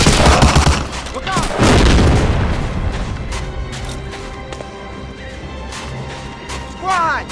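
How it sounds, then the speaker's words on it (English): Gunfire rattles in the World War II shooter game Medal of Honor Allied Assault, set in North Africa, as loud bursts and crashes open the scene, then a quieter spell of scattered shots, with shouted voices mixed in. "Squad! Covering fire!"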